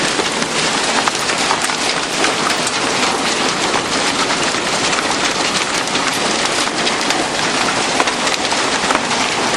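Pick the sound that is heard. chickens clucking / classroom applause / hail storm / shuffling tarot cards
hail storm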